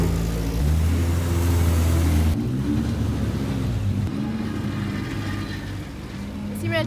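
Vintage racing sports cars on the Zolder circuit, their engines droning loud and close with a deep steady rumble that eases after a few seconds, then keeps running at a lower level.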